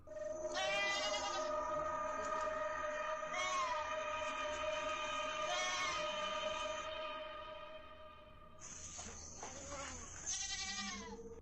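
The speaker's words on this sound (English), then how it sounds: "the goats are making loads of noise" Goats penned outdoors at night in Indonesia bleat loudly and repeatedly, several overlapping calls close by with brief gaps, and a couple of sharper cries near the end.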